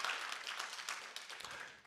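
A church congregation at a Good Friday service claps hands together, a dense, fairly faint patter of applause that carries on steadily before tapering off.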